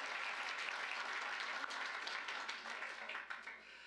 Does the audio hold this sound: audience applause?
yes